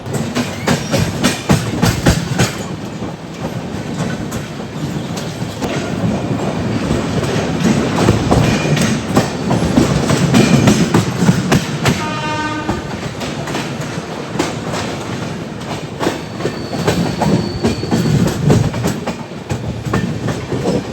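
Swarna Jayanti Express rolling into Gwalior Junction, a steady loud rumble with rhythmic clickety-clack of wheels over rail joints and brief high tones, heard from inside the train with no talk.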